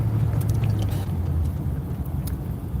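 A car engine idles in a video game, a steady low rumble with a smooth even hum close up and a few faint light clicks on top, no talking.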